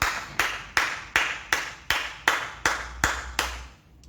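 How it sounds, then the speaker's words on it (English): A church congregation claps in a steady, even rhythm, about ten sharp claps spaced roughly evenly, each ringing briefly in the room with no talk over them. "Clap for Jesus."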